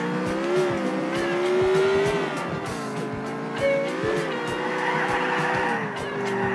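A car in GTA 4 drives hard with its engine droning and rising in pitch, while tires squeal repeatedly through the turns. The engine note shifts steadily over a background of scattered clicks.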